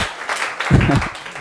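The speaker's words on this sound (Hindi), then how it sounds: "बच्चे तालियां बजाएंगे जेपी सर के लिए।" Students in an audience break into applause for a guest teacher at a coaching institute event, a short burst of clapping mixed with voices and a low thump, fairly close and moderately loud.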